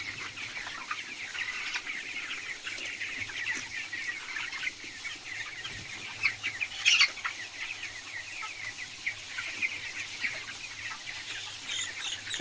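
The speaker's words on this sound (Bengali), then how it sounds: "সবগুলো মুরগি উঠে গেছে" Backyard hobby-farm chickens and roosters cluck in a steady low chorus, with a short burst of wing flapping and louder squawks partway through, all fairly close and continuous.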